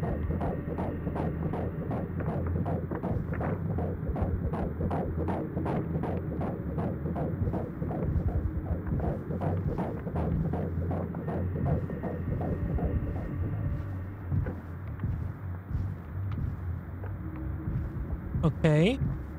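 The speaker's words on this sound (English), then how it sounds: "The heartbeat gets louder over here." A steady throbbing heartbeat pulses through the video game Mouthwashing, a low rhythmic thump repeating evenly under a humming drone, with a person talking over it throughout.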